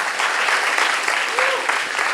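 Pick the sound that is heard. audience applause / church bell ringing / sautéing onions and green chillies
audience applause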